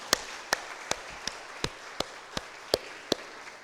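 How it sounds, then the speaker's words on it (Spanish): In a church during a Pentecost service, a congregation claps in a firm, regular rhythm, roughly ten crisp unison claps spaced evenly and standing clearly above a low, steady hum. "Un aplauso a Jesús que cumplió la promesa."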